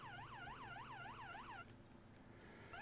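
A police siren in the video game ARMA 3 wails in a fast, repeating up-and-down yelp for about a second and a half, then cuts off, sounding faint and distant.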